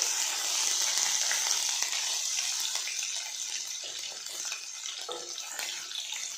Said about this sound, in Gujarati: લસણને આપણે લાલ પડતું થવા નથી દેવાનું ફક્ત આ રીતના સંતળાઈ જાય